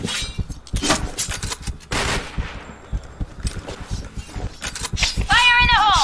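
T77 weapon gunfire in the PointBlank video game: rapid bursts of automatic shots crackle in quick succession, loud and close, with game effects and a brief rising electronic sweep near the end.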